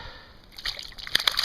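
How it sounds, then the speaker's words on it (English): A hooked bass thrashes and splashes in shallow muddy water, a brief burst of close, sharp slaps and sloshes in early spring bass fishing. "he just splattered me with muddy water"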